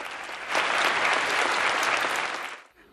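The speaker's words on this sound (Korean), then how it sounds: "박수갈채가 쏟아집니다." A burst of applause from an awards ceremony audience after an acceptance speech, dense and steady with many hands, swelling in quickly and then fading out near the end.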